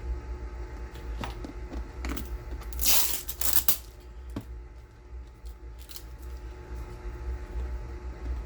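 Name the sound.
peeling tape off a Beretta pistol case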